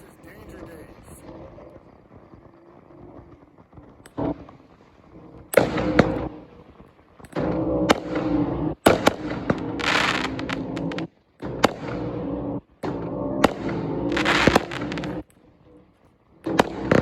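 A Magnus Fireworks Danger Days 12-shot cake fires outdoors, a rapid series of sharp pops and crackling bursts with brief gaps between shots, loud against a quieter start.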